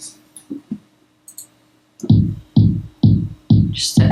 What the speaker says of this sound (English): on my kick, I just use the basic bus compressor